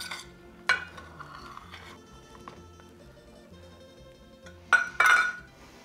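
Fresh peas drop into an old Italian frittata pan on the stove, bringing a few sharp clinks and rattles of metal and utensils against the pan amid a faint sizzle, close and with no talking.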